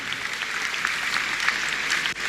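A church congregation claps in steady, dense applause that holds at an even level for a couple of seconds, close and lively, with no one speaking over it.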